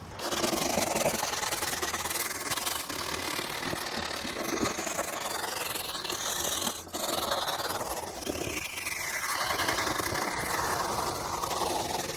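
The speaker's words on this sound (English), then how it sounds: "I'm just going to take a brass brush and we're just going to clean all this up" A brass brush scrubs the door sill of a 2005–2014 S197 Ford Mustang, a steady rasping rub in continuous strokes, close and moderately loud, with a faint engine-like hum beneath.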